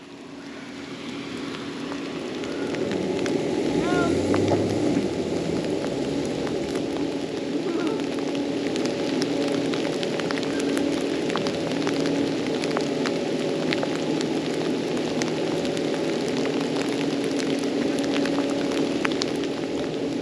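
Rain falls steadily on a muddy campsite on the banks of the Clarion River in Pennsylvania, a constant hiss with scattered drop ticks that swells in the first seconds and then holds level, with no voices.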